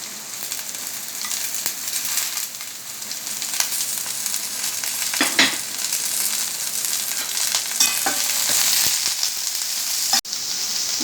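Sliced carrots and cabbage stir-fry in a hot pan for chicken chowmein, giving a steady, close hiss of oil broken by a few sharp scrapes and clatters of stirring, with no voices.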